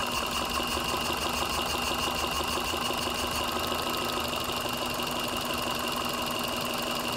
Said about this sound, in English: you can hear that the sound also changed when RPM is dropping